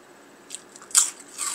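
Crisp bites into a light, crunchy snack, close up, with two or three sharp crunches in quick succession and no talking.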